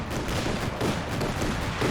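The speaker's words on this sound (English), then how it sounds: "with a flak half-track firing way against this Artefnic squad" Rapid flak half-track cannon fire rolls on steadily in a Company of Heroes 2 battle, dense overlapping bursts and booms filling the whole stretch with no letup.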